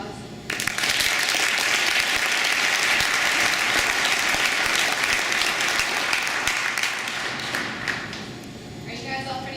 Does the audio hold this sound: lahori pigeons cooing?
no